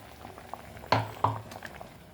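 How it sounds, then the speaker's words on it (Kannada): Rice and chana dal payasam simmering in a pot, with a faint steady bubbling and two sharper pops or plops standing out against the low background; no one speaks. "ಹಾಕಿ ಚೆನ್ನಾಗಿ ಕುದಿಸೋದು"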